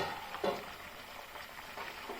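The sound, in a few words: stirring egg masala curry frying in oil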